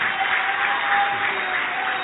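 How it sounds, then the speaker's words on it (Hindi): Steady audience applause from a gathering at a Jain religious discourse, dense continuous clapping at an even level throughout, with no talk over it. "तुम लोग तालियां बजा रहे हो"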